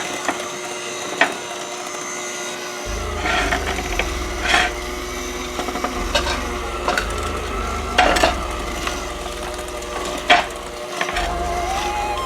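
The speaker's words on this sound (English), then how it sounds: "So I'm going to mix them all together, nice and slow." Wet brownie batter for chocolate cheesecake brownies is mixed slowly in a bowl, with soft scraping and occasional knocks of the utensil against the sides over a steady low background hum, and no talking.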